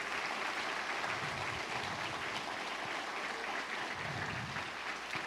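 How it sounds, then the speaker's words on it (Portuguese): Congregation applause fills a church, a steady, dense wash of clapping from a crowd that stays loud and even throughout, with no voices standing out. "você vai dar uma salva de palmas e vai glorificar a Deus"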